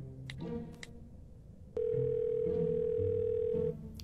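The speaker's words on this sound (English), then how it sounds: "I'm calling my lawyer." A steady telephone dial tone hums for about two seconds after a click, over faint room noise, then cuts off.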